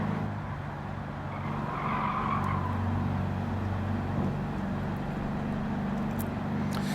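An engine-swapped VW Beetle in Gran Turismo 7 drives on the Nürburgring, its engine droning steadily while tires squeal and skid through a corner, a continuous loud mix without talk.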